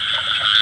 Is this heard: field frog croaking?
yes